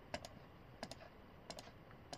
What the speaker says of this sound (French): Et on va taper une commande.